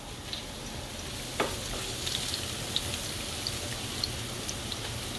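A salmon cake mixture with paprika and parsley is stirred in a pan over a soft, constant sizzle, with occasional light clicks and taps from the utensil close up and no speech.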